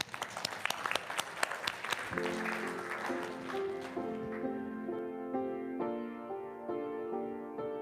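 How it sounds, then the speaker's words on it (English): Church congregation applauding, clapping loud at first and thinning out as sustained organ or keyboard chords enter and hold underneath, the clapping fading into the music. "Let's give him a round of applause."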